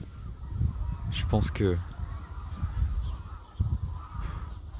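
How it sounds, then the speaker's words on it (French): Birds call loudly nearby on a walk beside a large bay in Suncheon, Korea, honking goose-like cries in a short burst amid ambient noise, with a person speaking briefly. "on entend les oiseaux assez fort comme ça."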